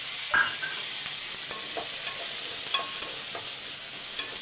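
About fifteen small onions sauté in a pan with oil, a steady close sizzle broken by a few clicks and scrapes of stirring, with no one talking.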